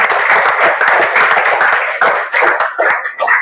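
Participants at a school counselling workshop clap together in a dense, loud round of applause that runs steadily for several seconds, with brief dips in intensity.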